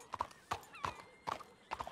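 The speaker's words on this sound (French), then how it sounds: "Je vais attacher mon cheval" Horse hooves clip-clopping in the video game Last Country, an even four-beat series of hollow knocks at a walking pace, moderately close and fairly quiet.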